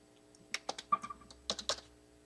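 Quiet computer keyboard and mouse clicks come in two short bursts of rapid taps, close by in a still room, with no talking.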